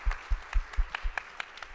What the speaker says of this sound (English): can we have a round of applause for America's Newspapers